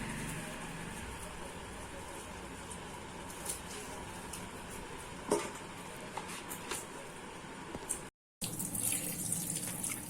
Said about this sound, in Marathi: आता एक एक करून असे सगळे मासे धुवून घेऊ आपण। बारीक धार केली म्हणजे जास्त पाणी वेस्टेज जाणार नाही।